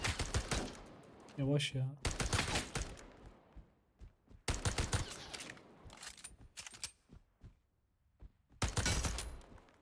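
Pistol gunfire in the video game Battle Teams 2, sharp shot bursts separated by quiet gaps, with someone talking in Turkish in between.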